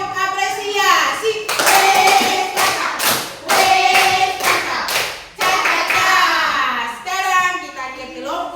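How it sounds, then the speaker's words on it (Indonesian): A classroom of students claps in a rhythmic patterned applause with thumps and taps between bursts, children's voices chanting and talking around it. "Kita kasih tepuk apresiasi."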